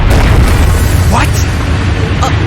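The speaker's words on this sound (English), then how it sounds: "A bomb?" A bomb explosion in The Legend of Heroes: Trails of Cold Steel video game, a loud, sustained, rumbling boom that fills the whole moment.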